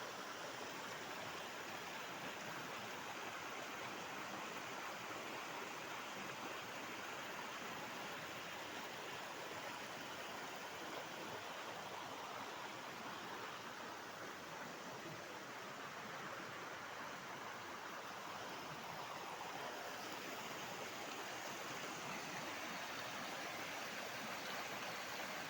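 A river in the Konkan countryside rushes steadily, a soft, even wash of flowing water heard alone at moderate distance for the whole stretch.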